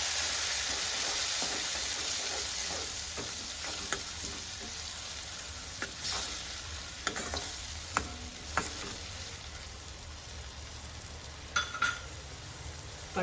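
Chopped tomatoes for a dhaba-style Kathiyawadi sev tameta sabji fry in a kadai with a constant, close hissing sizzle, while a spoon stirs and scrapes the pan in intermittent taps and clinks.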